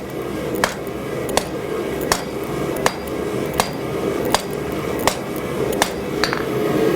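Steel tongs being forged on an anvil: a hammer strikes hot metal in a steady series of about ten sharp ringing blows, close and evenly spaced, over a constant background roar, no talking.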